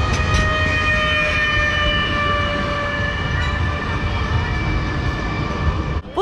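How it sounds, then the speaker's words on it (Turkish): A modern new-model tram passes close by on a busy line in Bulgaria, a steady loud rumble with sustained high tonal whine throughout, ending with a brief clatter. "Sürekli tramvay geçiyor bu şekilde."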